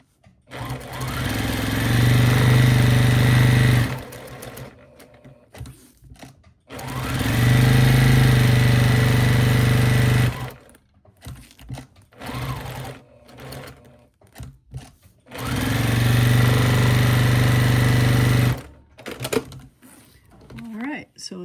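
A sewing machine stitching paper-pieced quilt block seams along dashed lines in three loud, steady whirring runs of a few seconds each, separated by pauses with handling clicks and a quiet voice.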